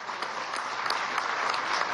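Applause at a public expo event in Acarigua, Venezuela, a steady wash of clapping from a crowd filling the whole stretch at moderate level with no talk over it.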